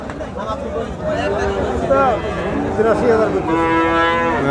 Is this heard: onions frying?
no